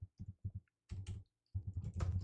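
Quick bursts of keystrokes on a computer keyboard, close and fairly quiet, coming in short irregular clusters separated by brief pauses, with no voices present.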